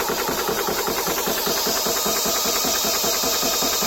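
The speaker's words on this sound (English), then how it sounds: "got the compressor hooked up here, and as you can see, it's climbing up quite nicely" A high-pressure air compressor fills an improvised air tank with a loud, steady pulsing drone and a fast rhythmic chug from nearby. It runs throughout with no speech.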